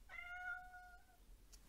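One short, clear cat meow with a steady tone, faint and heard alone against a quiet background.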